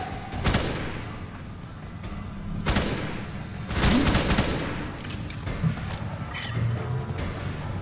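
Rapid bursts of automatic gunfire in the first-person shooter F.E.A.R. 3 come in loud repeated volleys with short gaps, set against dense game background noise.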